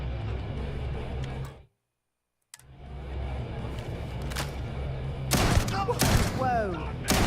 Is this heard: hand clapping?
no